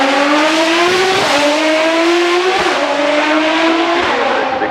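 A Pagani supercar screams past at the Goodwood Festival of Speed, its engine revving hard through several rising gear pulls with brief shift dips, loud and close before fading slightly as it moves away.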